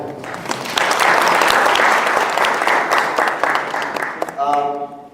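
An audience claps loudly in a sustained round of applause at a gathering, dense and even for most of its length before thinning out, with voices talking over the end.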